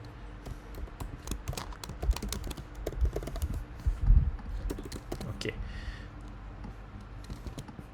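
Keys on a computer keyboard tapped in an irregular run while code is written, close and moderately loud, with someone talking over much of it.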